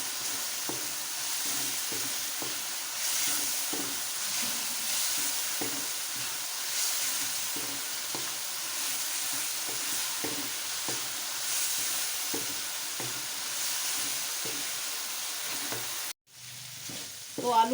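Potato keema fries in a pan with garam masala, a steady moderate sizzle broken by repeated rhythmic stirring scrapes, briefly cut off near the end by a pause and a clatter.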